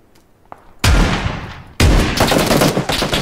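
Two loud gunshot blasts in PUBG ring out about a second apart, each followed by a long decaying rumble, with a faint click before the first.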